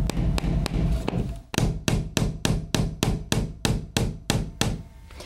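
A hammer drives a 1.5-inch finishing nail into a wooden chair rail: a few light taps, then a run of about a dozen sharp, evenly spaced blows, close and loud with no talking.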